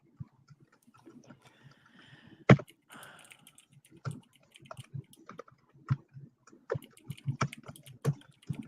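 Rapid clicking of keys on a computer keyboard, typed in uneven bursts with one sharper knock partway through, fairly close and moderately loud, with no talk over it.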